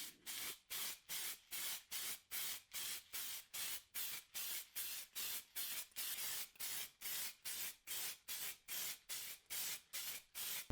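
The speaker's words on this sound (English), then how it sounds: "I prep the shielding and adding a clear coat to prevent further rusting" Clear coat sprayed from an aerosol can onto the metal shielding of an original Crystal Xbox, heard as around twenty-five short, even hissing bursts in a steady rhythm, close and alone.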